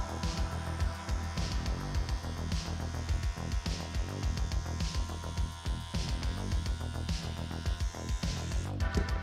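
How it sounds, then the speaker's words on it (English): An electric shaver trims rug pile to even it out, giving a continuous buzzing hum broken by rapid, rhythmic pulses as it passes over the tufted surface, close and fairly loud. "Get that shaver back out, make sure it's nice and even."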